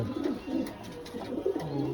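Pigeons cooing close by in a loft, soft repeated low throaty coos rolling one after another over a faint background hum.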